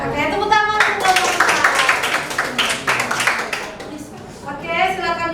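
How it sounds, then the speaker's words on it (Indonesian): A class of students applauds a student group after its presentation, with a few seconds of brisk clapping between stretches of a voice speaking at the start and end. "tepuk tangan untuk kelompok"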